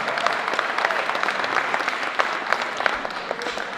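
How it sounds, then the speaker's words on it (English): Sustained applause from an audience at an awards night honoring the event's sponsor, steady dense clapping at moderate level throughout with no voices. "shall we give them a big round of applause?"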